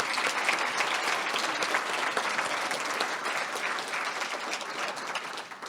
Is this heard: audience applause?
yes